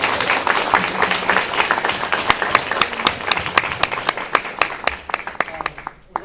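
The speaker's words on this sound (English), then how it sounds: "Please join me in a round of applause." An audience at a university scholarship awards ceremony claps together, a dense round of applause that thins into scattered individual claps toward the end, heard from within the hall.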